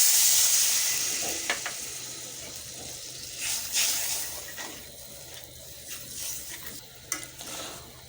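Spice paste of coriander powder, dry chili powder, green chili, garlic, ginger and cumin paste hisses loudly as water goes into the hot pan, then settles into a crackling sizzle with intermittent stirring scrapes.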